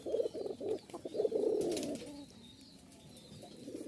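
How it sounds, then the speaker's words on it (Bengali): A Giribaz pigeon coos softly in a pigeon loft, with a few low, rolling coos in quick succession before fading into quiet background hiss, fairly faint and alone. "এই যে দেখছেন, খুব ভালো ডাকে, চিকন ডাক।"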